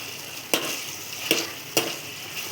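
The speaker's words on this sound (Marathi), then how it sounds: "असं तेलात छान असं वाफलून घेतलं ना मटणाला, खूप छान चव लागते बरं का." Mutton sautéing in hot oil in a pan for a spicy mutton curry, a soft steady sizzle broken by three sharp scraping stirs spaced through the moment.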